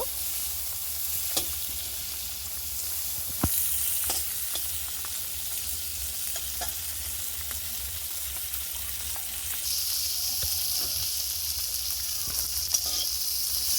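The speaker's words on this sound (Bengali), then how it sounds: "কিশমিশ কাজু বাদাম একটু ভেজে নেব।" Raisins and cashew nuts fry in a pan with a steady soft hiss and crackle, a few light utensil taps now and then, the sizzle briefly brightening near the end.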